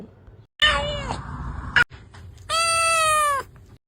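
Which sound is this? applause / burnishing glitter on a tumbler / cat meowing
cat meowing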